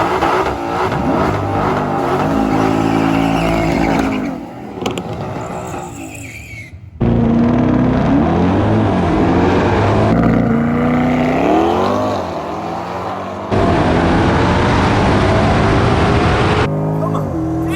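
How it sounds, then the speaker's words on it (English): Drag race cars, a C8 Corvette against a GT500, launching and racing down the strip, loud roaring engines rising in pitch through revs and gear changes, close by and heavy throughout with brief drops between passes. "sorry about all the noise. We got a bunch of race cars next to us"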